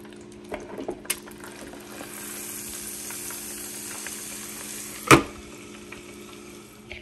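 A pork chop frying in a pan without flour, a soft steady sizzle running throughout with a few small clinks early on and one sharp clatter partway through.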